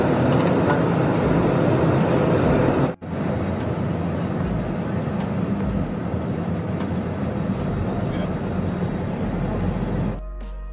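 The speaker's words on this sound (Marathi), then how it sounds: "सध्या आपलं विमान असं होतं, असं झालंय आणि आता खाली उतरत आहे" Steady broadband engine roar fills an airliner cabin during descent, continuous and loud with one brief dropout near the start, heard alone without talk.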